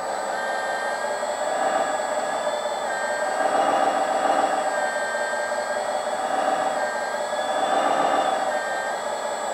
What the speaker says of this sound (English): Start the pump.